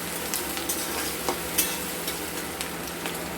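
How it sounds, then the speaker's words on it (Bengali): Chopped onion with whole garlic cloves frying in oil in a pan, a steady close sizzle with occasional small pops and stirring clicks, no voices. "পেঁয়াজটা আমাদের লাল লাল করে ভাজা হয়ে গেছে"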